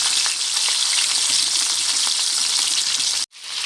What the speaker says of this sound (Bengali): এখানে আমি 4টে মাছ দিয়ে দিয়েছি, খুব ভালো করে তেলের মধ্যে দিয়ে দিলাম।